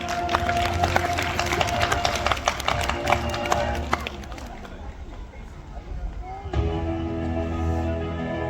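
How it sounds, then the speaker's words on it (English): Audience applause at Sai International School's stage event, with dense crowd clapping filling the first half amid hall noise and an amplified voice, then fading as music and crowd murmur take over. "Can we please have a thunderous applause?"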